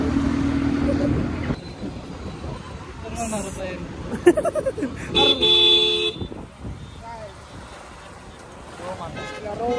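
Road traffic on a town street, with car horns honking in short toots over a steady hum of passing vehicles and a general murmur of people in the background.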